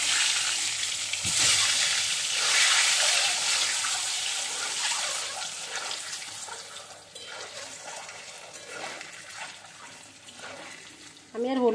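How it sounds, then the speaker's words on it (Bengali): Eggs sizzle and spit in a hot pan at home, a steady broadband frying hiss with scraping stir sounds, easing off in the latter half before a brief loud clatter at the end. "এখন আমি ডিমগুলি ভেজে নেই।"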